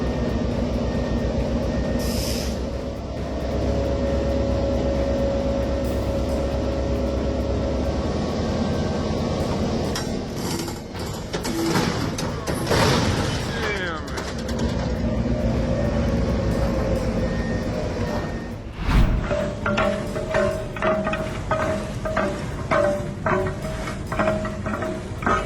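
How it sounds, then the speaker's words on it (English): Railway recovery crews try to rerail a derailed locomotive, amid steady heavy machinery rumble, metallic clanks and screeches, and a sharp bang near the end followed by irregular metal knocking. "This is the moment crews tried to put the locomotive back on the tracks"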